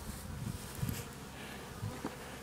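Honey bees buzzing at a hive on a small Japanese bee farm, a steady low drone with a few louder passes as individual bees fly close.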